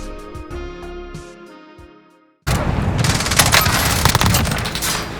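An FFAR submachine gun in a video game fires loud, rapid automatic bursts that continue steadily after a few seconds of tonal background music, with occasional heavier booms mixed into the gunfire.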